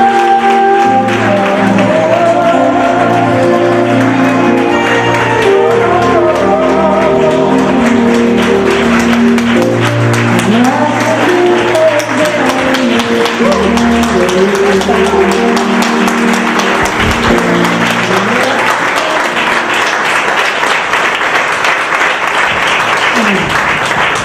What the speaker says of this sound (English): Let's give her another round of applause and welcome our honoree to the stage